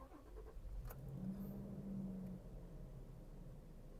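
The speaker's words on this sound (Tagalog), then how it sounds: "papaandarin na natin itong sasakyan" A 2021 Toyota Fortuner's engine is started, giving a short cranking burst that settles into a low, steady idle with a faint hum, heard close and quietly.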